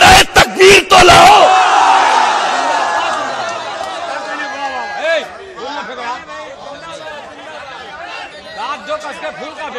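A crowd at an Islamic poetry gathering roars out the Takbir slogan in a loud burst of massed shouting, then falls to murmuring chatter and scattered cheers.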